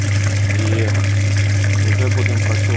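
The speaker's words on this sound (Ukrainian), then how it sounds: "відразу злили весь антифриз з нього" Antifreeze drains out of a Dacia Logan engine with a dirty cooling system, a steady, loud rush of flowing liquid over a constant low motor hum, with talk mixed in.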